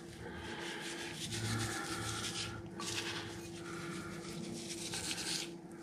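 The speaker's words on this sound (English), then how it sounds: "I'm just going to throw some of this rub I made on" Dry rubbing and rasping of a homemade salt, pepper, paprika and garlic powder rub being worked onto a brisket flat by hand, steady and close, continuing for several seconds with no talk.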